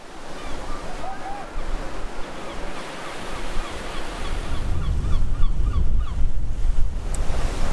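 Ocean waves breaking at Hiriketiya Beach in Sri Lanka, heard from a rock in front of the shore, a steady surf roar building louder toward the end with wind buffeting the microphone.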